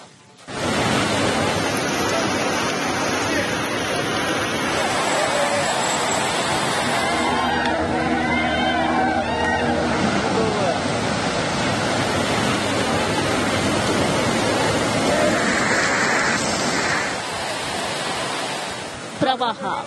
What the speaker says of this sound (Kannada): ಧಾರಾಕಾರ ಮಳೆಯಿಂದ ಶಕ್ತಿ ದೇವತೆ ಯಲ್ಲಮ್ಮನ ಸನ್ನಿಧಿಗೆ ನುಗ್ತಿರೋ ನೀರು